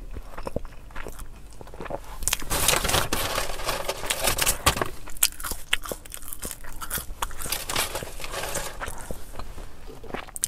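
Someone eats a McDonald's Travis Scott meal burger in a car, with close, crunchy bites and chewing scattered through the clip in irregular bursts.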